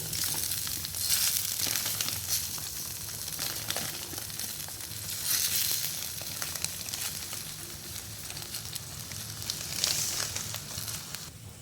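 Semolina stirred into boiling water in a pan, a soft continuous hiss and bubbling with gentle scraping swells that rise and fall, fairly quiet and without voices.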